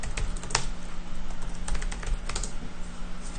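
Rapid typing on a computer keyboard while a password is entered during a math class lecture: dense, uneven clicks of keys with a few louder taps, close and fairly quiet, with no voices.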